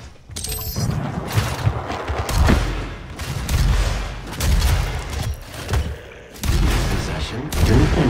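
Shotgun fire and other weapon blasts from a DOOM multiplayer match, with repeated heavy booming shots at irregular intervals through a loud, busy mix of game sound.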